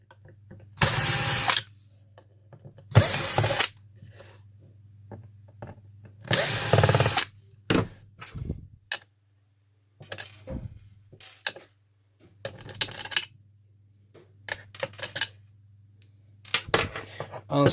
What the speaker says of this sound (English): unscrew the other 4 screws,